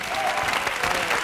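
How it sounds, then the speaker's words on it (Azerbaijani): Brief, steady applause from a studio audience during an evening game show, even and full throughout the short burst. "Ruslan alqışlar xahiş edirəm."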